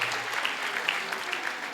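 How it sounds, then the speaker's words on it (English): Audience applause fills a political meeting at the ANC PEC Lekgotla, a dense, steady wash of many hands clapping close and loud throughout, with no voices over it. "Can we give PEC Lekgotla a nice round of applause"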